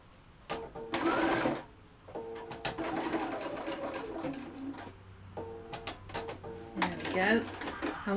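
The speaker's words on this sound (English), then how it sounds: "I'm just going to sew this one in here." Home sewing machine stitching a fabric origami gift bag in short mechanical bursts of rapid needle chatter, starting and stopping several times, with speech in between.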